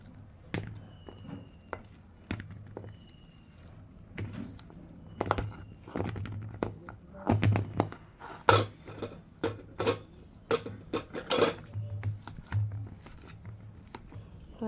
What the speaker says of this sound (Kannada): ಆಲೂಗಡ್ಡೆ ಬಿಸಿದವ್ರಿ, ಅದಕ್ಕೆ ಈ ಮ್ಯಾಶರ್ಲೆ ಹಿಂಗೆ ಮ್ಯಾಶ್ ಮಾಡ್ಕೊಳ್ಳೋಣ ರೀ ಆಲೂಗಡ್ಡೆನ